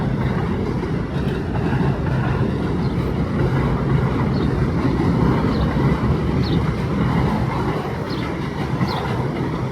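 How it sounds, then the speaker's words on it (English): An NYC subway N train rumbles past on elevated tracks in Astoria, Queens, a steady loud roar of wheels and cars that holds for several seconds with faint high squeals on top, no talking. "That is the N train."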